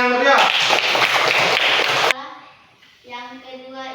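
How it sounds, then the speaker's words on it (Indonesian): A class of children claps together in a loud burst of applause for about two seconds, followed by a voice speaking in a room. "Bagus, beri tepuk tangan yang meriah."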